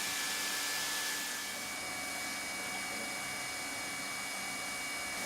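Welding machine running evenly along a long seam joint, a steady blowing hiss and whir, fairly faint and constant with no talking.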